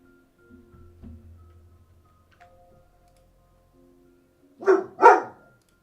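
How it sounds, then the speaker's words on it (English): Two quick, close barks from a dog in a quiet room, coming near the end after faint, sparse background clicks and no talking. "My dog is making an appearance."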